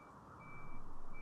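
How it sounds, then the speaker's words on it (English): A vehicle reversing outside gives faint, steady beeps that sit far off under a broad background hum, heard indistinctly over a brief moment. "it's a vehicle reversing outside"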